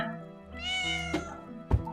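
In the video game Children of Silentown, a cat gives a single drawn-out, tonal meow, loud and close. A sharp thump follows shortly after.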